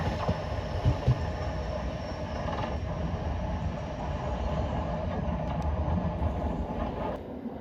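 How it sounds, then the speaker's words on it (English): A train pulls into a London station, the 1013 service to Clapham Junction, unit 378146, with a steady low rumble of wheels and mechanisms, some faint squeal and clatter, at moderate distance. "Here's my train, the 1013 to Clapham Junction"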